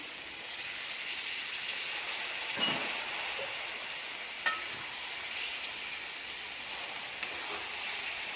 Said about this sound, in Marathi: आता आपण त्याच्यामध्ये शिजवून घेतलेले काबुले चणे टाकतोय